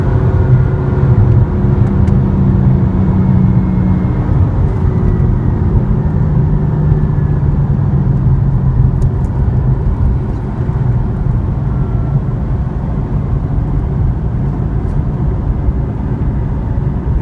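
A 2015/2016 BMW M4 Coupe engine and exhaust drone steadily while driving, a loud continuous low rumble with road noise heard from inside the car throughout.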